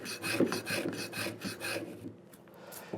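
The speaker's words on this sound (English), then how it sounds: "we drop the chisel in exactly the same way. So remove some waste, like this" A steel chisel pared through wood waste by hand, a rhythmic series of close, rasping strokes that fade out toward the end, with no talking.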